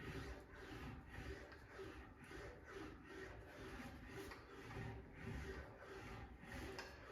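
Sheet metal panel being rolled back and forth through an English wheel under light pressure to form a reverse curve, a steady low rubbing and rumbling drone with slow rhythmic swells, close and continuous with no talking.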